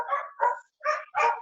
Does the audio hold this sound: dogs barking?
yes